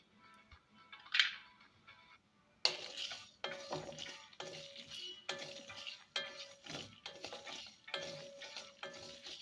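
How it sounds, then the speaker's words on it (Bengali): Cumin seeds being dry-roasted and stirred in a wok, a quiet start followed by repeated rhythmic scraping strokes with a rattle of seeds and light metallic clinks, close and steady, with no talking. "এগুলো একটু ভাজা ভাজা হতেই এর মধ্যে দিয়ে দিচ্ছি আমি সাদা জিরে"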